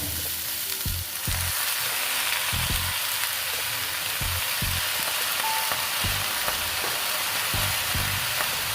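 Spinach sizzling in a hot pan, a continuous loud frying hiss with short, regular bursts of stirring and scraping throughout, with no voices.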